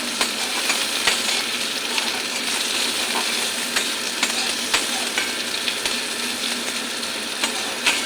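Garlic and onion fry in a pan as the base for a dried fish curry with eggplant and tomato: a steady, close sizzle with scattered crackles and pops, with no talking.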